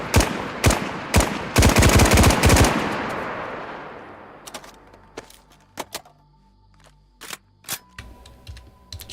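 Video game gunfire: bursts of rapid automatic shots up front, a dense loud volley that fades with a long tail, then scattered single sharp shots and short bursts at a distance.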